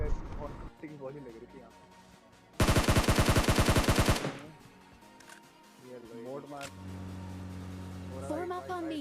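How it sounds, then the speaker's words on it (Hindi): Gunfire in a battle royale video game: a loud, rapid burst of automatic fire lasting about a second and a half, set apart by quieter game sounds and beeps before and after. "रोजॉक में फिर से फायरिंग स्टार्ट हुई"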